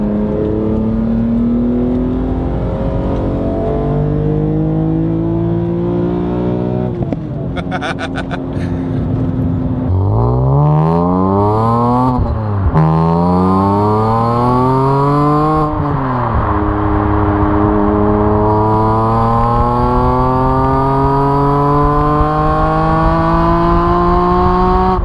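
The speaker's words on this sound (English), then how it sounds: "These M3 engines still sound absolutely epic, don't they?" A high-revving naturally aspirated BMW M3 engine climbs and drops repeatedly, its pitch sweeping up through the gears in loud, screaming bursts.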